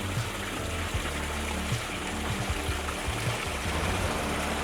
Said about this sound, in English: It's Oregon's tallest waterfall and drops in 2 tiers